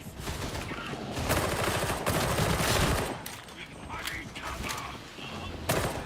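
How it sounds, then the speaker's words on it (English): In Warhammer 40,000: Darktide, a braced autogun fires sustained bursts of rapid automatic fire, loud and close, stopping and starting in several strings with mechanical clatter between them. "Oh yeah, that's a braced autogun."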